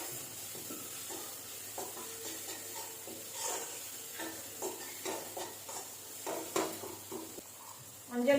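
Ginger garlic paste sautéing with onion and tomato in a pan, soft sizzling under repeated spoon stirring and scraping strokes, fairly quiet and close.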